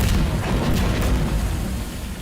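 A loud, booming video-game explosion with a deep rumbling roar that slowly fades, no talking.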